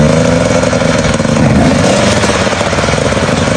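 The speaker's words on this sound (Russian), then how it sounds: "Так можно завести мотоцикл без аккумулятора." A motorcycle engine started without a battery, catching and running with a loud, steady rapid chugging throughout, close by and without talk.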